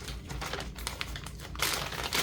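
Plastic bag crinkling and rustling as a swim top is packed for shipping, a close, continuous scratchy crackle that grows louder and denser toward the end.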